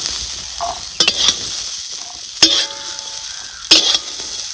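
Roasted dried peas (vatana) are stirred in a pan and scraped out with a metal spoon, giving sharp clinks and scrapes over a soft, dry sizzle, close and fairly loud with no voices.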